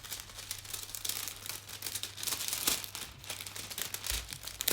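Glued canvas is peeled loose from a surface, giving a faint crinkling, rustling tear with soft crackles over a low steady hum.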